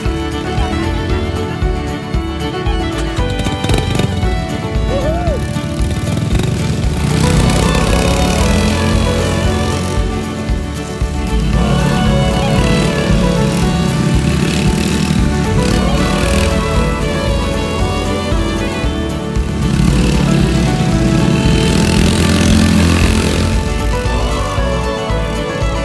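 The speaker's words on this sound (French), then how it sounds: "Un Yamaha Snow Scoot," A 2020 Yamaha Snowscoot runs on a snowy test track, its small engine droning steadily and loud throughout, with pitch rising and falling as the throttle changes.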